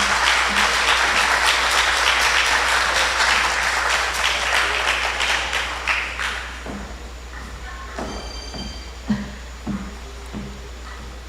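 An audience at a pre-budget consultation meeting in Tableland applauds after a speech, dense clapping for about six seconds before thinning out into scattered claps and room noise.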